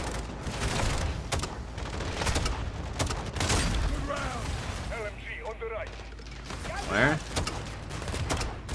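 Rapid gunfire and bursts in a Modern Warfare II campaign firefight, dense clattering shots throughout with mechanical weapon handling, under a single short spoken word and overlapping radio-style voices.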